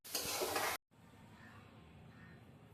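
Onions sautéing in a pan with salt: a short, loud burst of sizzling and stirring that cuts off abruptly, followed by a faint, low hiss.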